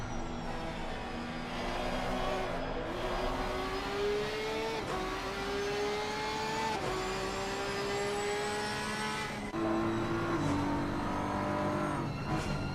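A race car engine on the throttle around a circuit in a Pro-Am race at Watkins Glen, a loud, close, continuous howl whose pitch climbs through the gears with sharp drops at each shift, and no talking.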